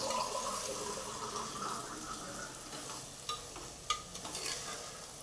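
A vegetable pulao mixture being stirred and mixed in a pot, with a steady wet sizzling hiss and a few brief scraping knocks toward the end, fairly quiet and without speech.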